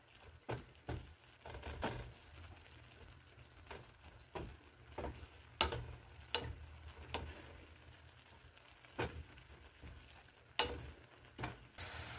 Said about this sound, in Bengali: গুড়টা জলের মধ্যে অনেকটা মিশে গেলে এর মধ্যে এবার আস্তে আস্তে নারকেলগুলো মিশিয়ে দেবো